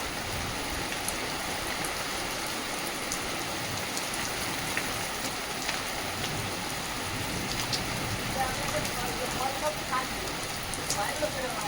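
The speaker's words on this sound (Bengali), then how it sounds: "মুষলধারা বৃষ্টি হচ্ছে বাইরে।" Heavy torrential rain pours outside during a storm, a steady dense wash of drops drumming on surfaces that holds even and unbroken throughout, close and loud with no pauses.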